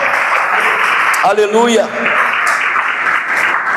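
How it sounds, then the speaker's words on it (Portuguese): A church congregation applauds during a sermon, loud sustained clapping from many hands while a voice briefly calls out over it. "Aplaude e glorifique a Deus"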